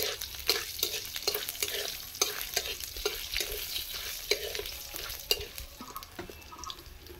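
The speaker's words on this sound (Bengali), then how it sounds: "আর এই পাঁচফোড়ন দিচ্ছি। এগুলো এখন নাড়তে থাকবো।" Panch phoron whole spices sizzle steadily in hot oil in a pan for a vegetarian pumpkin dish, with repeated scraping and stirring strokes of a spoon rising above the continuous frying hiss; close and moderately loud, with no voices.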